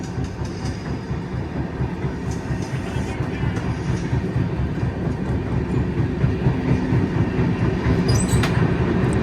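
From inside the Dibrugarh Rajdhani Express, a steady loud rumble of the running train fills the clip, with wheel clatter and faint metallic squeals near the end and no speech.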